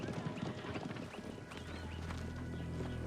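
Horse hooves clip-clop steadily over a busy outdoor background with a low engine-like hum and faint distant voices.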